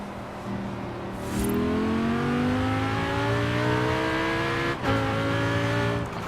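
A car engine in Forza Horizon 4 revs up and holds a high, climbing whine, briefly dips as a gear shifts, then pulls again, loud and close with no voices.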